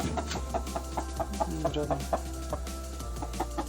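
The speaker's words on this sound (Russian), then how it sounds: "Курица и петух. Один петух и несколько куриц." Hens clucking repeatedly in short bursts nearby on a village farm, with a rooster among them, the calls overlapping at an uneven rhythm.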